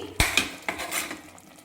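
A utensil clanks and scrapes against a pot while mixing chicken biryani, three sharp metallic knocks followed by softer scraping that fades out.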